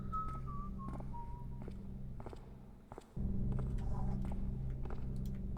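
A short whistled tune from a character in the stealth game Thief: The Dark Project, a few gliding notes early on over soft footsteps and low ambient hum.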